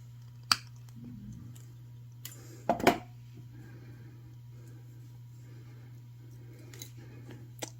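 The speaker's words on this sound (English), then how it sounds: "So I'm going to get my big old cutters here and cut my chain." Large jewelry cutters snip a necklace chain with a couple of sharp, crisp clicks over a quiet, steady background hum.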